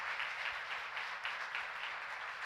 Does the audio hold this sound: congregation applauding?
yes